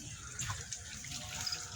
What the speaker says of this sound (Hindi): ये नाली का पानी अभी भी जा ही रहा है